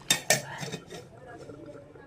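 A metal lid clanks twice onto a pot of simmering mutton kosha, two sharp close knocks at the start that fade into a low cooking hum.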